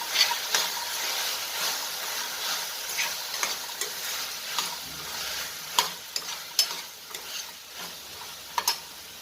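Two hundred grams of chickpeas fry in oil over lowered heat, giving a soft continuous sizzle broken by sharp ticks and clacks of a spoon stirring against the pan, close up with no speech.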